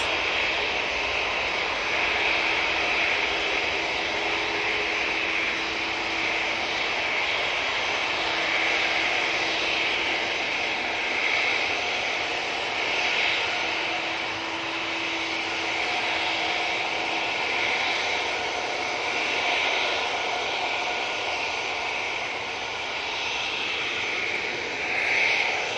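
A Boeing 737's jet engines roar steadily at Manchester Airport, a loud broad whooshing drone that swells slightly and holds for the whole stretch with no talk over it.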